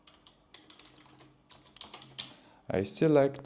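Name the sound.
typing code on a computer keyboard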